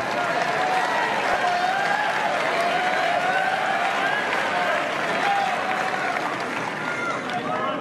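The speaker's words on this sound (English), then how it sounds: "Crowd giving some encouragement." Tennis crowd at the French Open applauding and cheering during a Del Potro versus Mahut match, a steady dense wash of clapping and voices filling the whole stretch.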